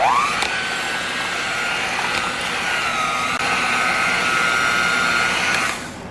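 An electric mixer whirs steadily while beating four eggs into cheesecake batter, its pitch climbing as it starts, then holding a constant high whine before winding down at the end, close and without talking.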